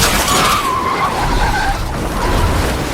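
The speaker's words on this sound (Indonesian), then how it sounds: "tiba-tiba sebuah mobil menabrak mobil detektif Jang" Car tyres skidding in a film scene as the car swerves before crashing into another car, a loud wavering squeal over heavy rumbling engine noise, with no voices.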